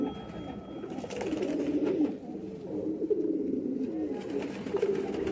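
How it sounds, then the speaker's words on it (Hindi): Black-faced Batere pigeons coo continuously and close by in low, throaty rolling phrases, with a faint higher tone early on. "हाँ, बटेरे और काले मुंह वाला कबूतर है"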